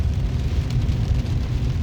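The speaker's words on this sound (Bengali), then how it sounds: "খুব জোরে বৃষ্টি হচ্ছে" Heavy rain on a road on an early morning in Delhi, a dense steady hiss of falling water with a low rumble beneath, continuous and close.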